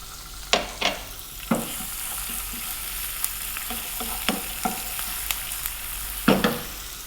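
Onion with garlic ginger paste frying in hot oil in a pan for an Indian-style fish fry, with a steady faint sizzle broken by several sharp stirring scrapes and clacks spread across the stretch, close by with no talking.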